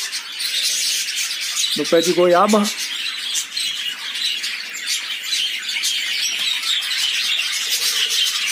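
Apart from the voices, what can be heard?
cactus parakeets calling in a guava tree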